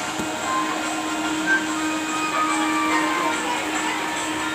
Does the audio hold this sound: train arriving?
yes